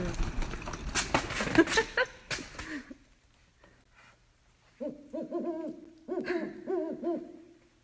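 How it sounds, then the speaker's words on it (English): After some rustling and handling noise, a great horned owl calls several times in repeated deep, low, rhythmic hoots, fairly clear and close. "That's the sound of the great horned owl."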